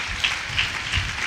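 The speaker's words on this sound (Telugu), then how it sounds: "చప్పట్లు కూడా మొదలు గట్టిగా." Applause from a church congregation during a Telugu sermon, a steady wash of clapping with a few louder bursts over about a second.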